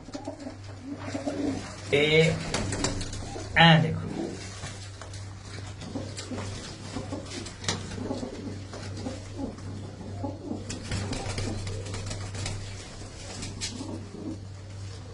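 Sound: pigeons cooing at a home loft

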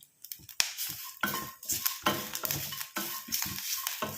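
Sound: coconut pieces frying and being stirred in a pan

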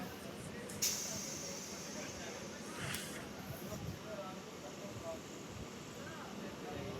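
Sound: MEMU passenger train running, slowing down

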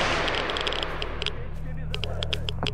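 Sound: gunfire from a rifle in S.T.A.L.K.E.R. Anomaly video game

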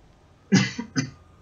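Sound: coughing during a recording

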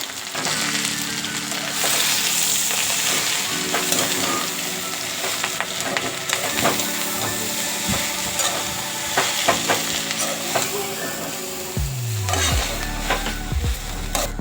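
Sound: mixing harbhara greens with moth bean dal in frying pan

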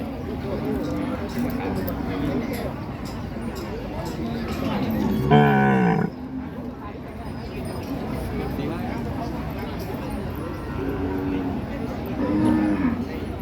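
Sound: cattle at Ban Han market, Maha Sarakham

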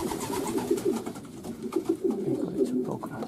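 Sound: pigeons cooing in a loft

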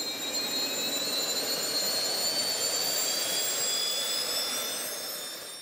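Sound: jet engines of a jet-powered flying suit warming up

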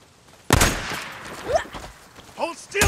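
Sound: gunshots in the video game Days Gone

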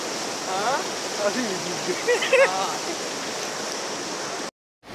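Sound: floodwater rushing through a culvert

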